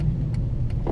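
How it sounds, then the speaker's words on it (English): Deep, rumbling V8 engine of a Dodge Challenger SRT8 idles with a throaty low burble, close and steady for a brief moment. "So I gotta love the sound of that V8."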